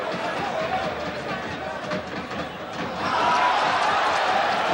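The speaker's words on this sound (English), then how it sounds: "Crowd didn't like that" A football stadium crowd at a 1994 Champions League match between Galatasaray and Manchester United swells into a broad, disapproving roar midway, distant and diffuse, with a commentator talking over it.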